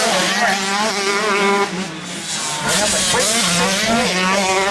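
Several 125cc motocross bikes race at a schools championship for 15 to 19 year olds, their high-pitched engines rising and falling as they rev through ruts, loud and close, with a commentator talking over them.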